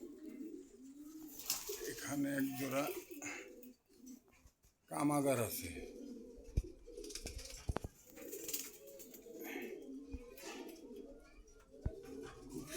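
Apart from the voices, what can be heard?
pigeons cooing at a market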